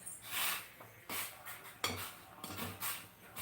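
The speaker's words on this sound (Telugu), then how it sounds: "ఒక రెండు లాగా రసం పొడి వేస్తాము వేసి బాగా కలపాలి" A spoon stirs rasam powder into a cooking pot, producing a series of soft scraping and clinking strokes against the metal in an irregular rhythm, close and fairly quiet with no talking.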